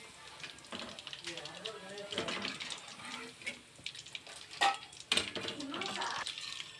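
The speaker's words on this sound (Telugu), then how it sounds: "ఇప్పుడు మళ్ళీ రెండవ వేయించుకుని ఇది కూడా 2 మినిట్స్ వేగాలి" Chilli chicken pieces deep-frying in oil for a second time make a soft, uneven bubbling sizzle with occasional sharp crackles and pops, fairly faint.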